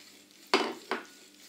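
Batter for a sardine and cherry tomato clafoutis with olive oil and lemon juice being mixed in a bowl: two quick, close utensil scrapes and clinks against the bowl in quiet surroundings.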